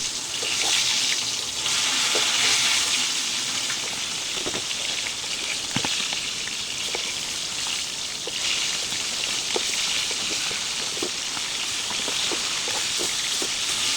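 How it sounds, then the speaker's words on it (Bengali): Chicken drumsticks frying in oil after being turned over, giving a steady, hissing sizzle with occasional faint pops and clicks from the pan. No one talks throughout. "এখন সব রানগুলো এভাবে উল্টে দিয়েছি উল্টিয়ে দিয়ে অপোজিট ও পাঁচ মিনিট এভাবে ভেজে নেব"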